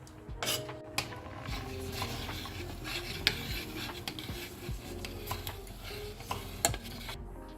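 A spoon stirring sambar in a cooking pot, repeated scraping and clinking against the metal at an irregular rhythm over a low background hum, close and fairly loud with no talk.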